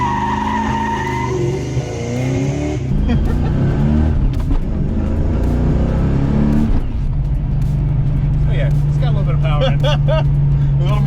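A V8-swapped Ford Foxbody, converted from a four-cylinder turbo, pulls away on the road with a rising engine roar and some tire noise, loud and close, as people talk over it.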